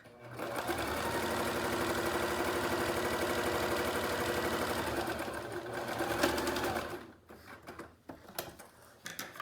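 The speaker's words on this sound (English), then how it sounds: "don't forget to make a back stitching here in the beginning and at the end of your stitching" Up close, a sewing machine stitches a pleated fabric face mask in one long, even run of fast stitching lasting several seconds, then stops and leaves quiet handling noises.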